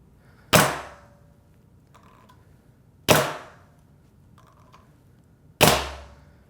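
Shocker RSX paintball marker fires three sharp, loud shots through a chronograph, evenly spaced about two and a half seconds apart, each a crisp pop with a short decaying tail and faint mechanical clicks between.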